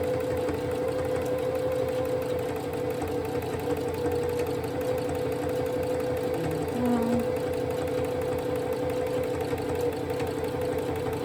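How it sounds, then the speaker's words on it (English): A sewing machine runs steadily at close range for the whole stretch, a continuous mechanical whir and rapid stitching rhythm as it traces around a leaf appliqué shape, with no talking over it. "And I go around each shape twice. So I'm working my way around it for the second time."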